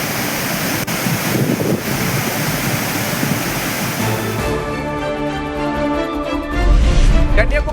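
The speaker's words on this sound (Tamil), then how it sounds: "தொடர் கனமழையால் மணிமுத்தாறு அருவியில் ஆர்ப்பரித்து கொட்டும் நீர்" Manimuthar waterfall in full spate after days of heavy rain, a dense, steady roar of crashing water that grows louder and heavier toward the end, with no voices over it.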